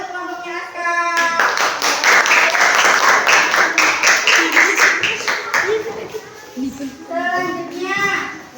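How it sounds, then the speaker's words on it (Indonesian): Children in a classroom give a group of classmates a round of clapping, loud and steady for several seconds, then fading as kids' voices and chatter take over. "Ya, tepuk tangan untuk kelompoknya Askar."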